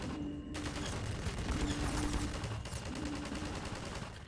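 Bursts of enemy gunfire in Half-Life 2 crackle in dense, rapid volleys like automatic weapons fire, loud and continuous throughout, with a steady tonal hum running beneath.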